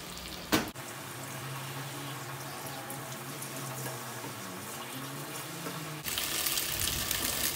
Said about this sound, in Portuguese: já vou mexer o frango. A água dele tá secando